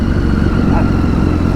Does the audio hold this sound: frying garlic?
no